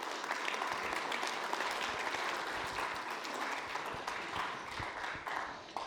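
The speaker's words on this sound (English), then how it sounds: "Give him a big hand of applause to Lord Dominic Johnson." A large conference audience applauds steadily, a dense wash of clapping heard from a distance that holds for several seconds without speech.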